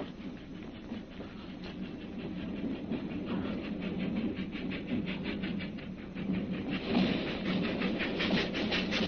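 A train rattles along the tracks in a film scene, a continuous clattering ride with rhythmic clicks and jolts, moderately loud and steady, with no voices.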